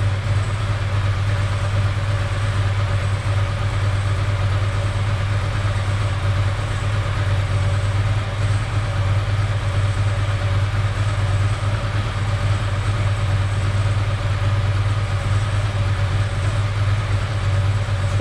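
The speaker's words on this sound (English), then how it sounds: "You can hear the idle mixture pick up" A Ducati ST4S motorcycle engine idles steadily during throttle body setup, a loud, even low rumble with a constant pulsing drone and no change in pace, with no voices.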